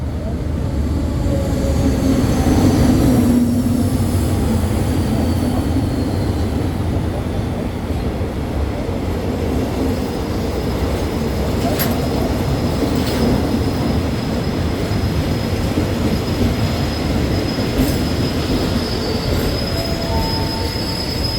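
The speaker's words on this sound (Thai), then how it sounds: "กระบวนรถนี้ออกจากสถานีปากคลอง" A Thai southern line train departs Pak Khlong station, rumbling loudly along the tracks, wheels squealing and grinding steadily as it moves, with a long high screech persisting throughout.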